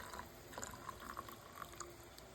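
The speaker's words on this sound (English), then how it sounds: "I'm gonna grab me some of this chicken broth and we're gonna put it into this can." Chicken broth poured from a carton into an empty can, a quiet and steady liquid trickle with faint splashes running through the whole short stretch.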